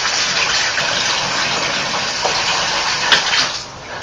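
Water gushing steadily into a bathtub during a bathroom remodel, a loud continuous broadband rush with a couple of brief splashy bumps near the end.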